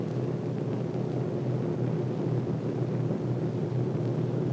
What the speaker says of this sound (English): Over the base, they peel off and come in for their landings.